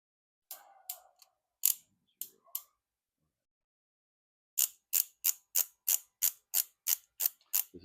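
A torque wrench on a 2021 Harley-Davidson CVO Road Glide during a cam install clicks as it tightens to 115 inch-pounds: a few scattered ratchet clicks, a pause, then a steady run of about ten sharp, close clicks.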